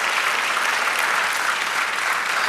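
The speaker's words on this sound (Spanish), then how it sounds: "Dale un aplauso al Espíritu Santo" A church congregation applauds steadily during a Spanish-language sermon, a dense, even wash of many hands clapping loudly with no voices on top.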